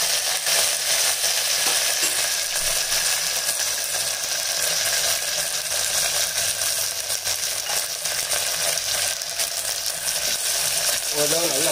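Curry leaves, crushed garlic, ginger and mustard seeds frying in oil for a village-style fish curry, a dense, even, loud sizzle holding steady throughout with faint stirring underneath.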